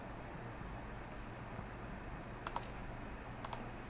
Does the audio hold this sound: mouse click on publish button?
yes